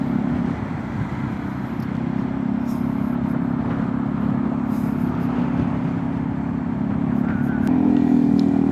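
A friend's new W-Moto motorcycle engine drones steadily nearby during a Saturday ride, with a slight rise toward the end and other road traffic mixed in.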